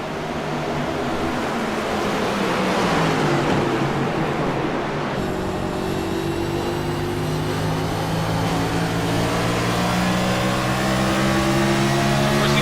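A race car engine at Richmond drones loudly and steadily under patient throttle, a continuous mid-pitched roar that rises gradually in pitch as the car accelerates, with other cars blending into the sound.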